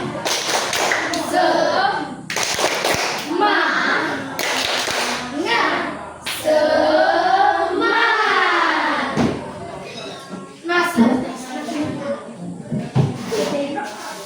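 A classroom of pupils does the rhythmic 'tepuk semangat' clapping routine, with loud bursts of hand claps and thumps in patterned groups mixed with chanting voices.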